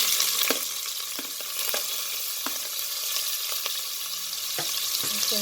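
Sliced onions frying in hot oil with cloves in a pan, a continuous close sizzle broken by several sharp clicks and scrapes of a spoon stirring, without any speech.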